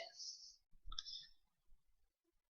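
A computer mouse gives a soft, single close click near the middle of a quiet moment, with faint talk just before it.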